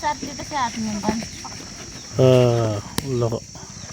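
Chickens cluck and squawk close by in short bursts, with people talking and crickets chirping steadily in the background.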